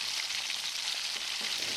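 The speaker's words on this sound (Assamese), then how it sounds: "এতিয়া মছলাটো ধুনীয়াকৈ ভাজিব লাগিব" Cumin, coriander, cinnamon, black pepper and dried red chillies fry in hot oil for an aloo paneer curry, a steady, dense sizzle close by with no talk.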